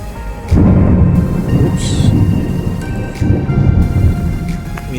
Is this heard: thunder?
yes